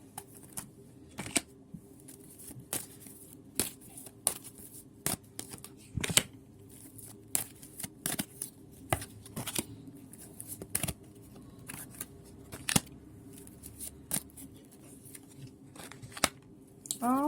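Tarot cards being shuffled and pulled during a soulmate card reading, making quick crisp riffles and snaps that repeat in irregular bursts over a steady low background hum.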